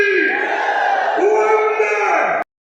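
A big crowd at a political rally in Hisar roars and cheers together in one loud, sustained burst that cuts off abruptly.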